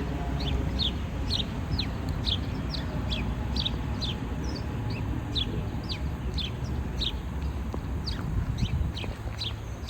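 Birds chirp repeatedly in short, bright calls over a constant low background rumble, the notes spaced fairly evenly and moderately distant.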